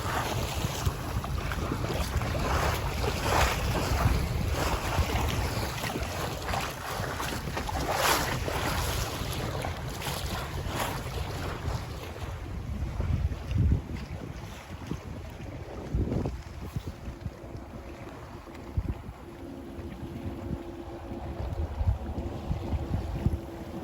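A Pearson 26 sailboat under way off Rhode Island, with steady wind buffeting the microphone, water rushing and slapping along the hull, and a continuous broadband wash throughout, no voices.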